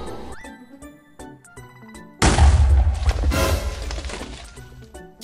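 A TNT blast in a Minecraft-style game hits the roof of a house and tears a big hole in it. It comes as a sudden loud, crashing boom that rumbles on for several seconds, with tinkly game music before and after.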